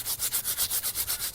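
Sharp sandy loam soil rubbed between fingers, giving a close, gritty scratching in about ten quick, regular strokes.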